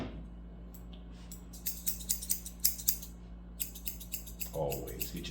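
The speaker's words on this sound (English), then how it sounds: "Always get your scissors, y'all." Scissors snip repeatedly through hair in quick, crisp bursts, close up, with a brief pause midway before the snipping resumes.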